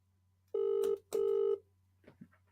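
An outgoing telephone call rings back through the earpiece as two steady tones, each lasting about half a second with a short gap between them. A faint voice murmurs afterward.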